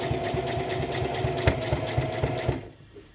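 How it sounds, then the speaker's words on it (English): A sewing machine stitches a tote bag with rapid, evenly spaced mechanical clatter for about two and a half seconds, then stops abruptly, leaving quiet. "You're gonna gently lower your presser foot in the back and continue sewing."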